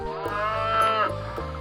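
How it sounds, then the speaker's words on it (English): A cow moos once in a long, loud, drawn-out low call with a rising and falling tone, heard alone with no talking. "Clara cow says moo"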